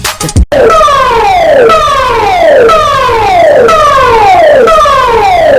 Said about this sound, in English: You just have heard the warning siren.